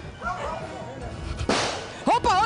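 A single sharp gunshot crack rings out mid-clip as traffickers fire on police during a raid in Brazil, with raised, shouting voices around it.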